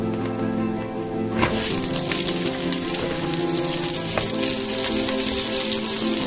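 Garlic cloves frying and browning in a pan, a steady close sizzle that swells from about a second and a half in and holds as a dense crackle with occasional pops, no talking.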